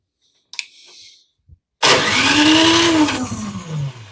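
A couple of sharp clicks come first, then the electric starter on an MTD snowblower engages with a loud, steady whirring spin-up that rises in pitch, holds, and keeps running close by with no grinding.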